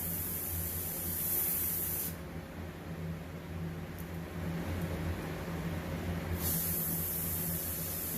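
An airbrush mists paint to create bullet-hole effects, a steady close hiss of air and spray with a noticeable change in tone midway through.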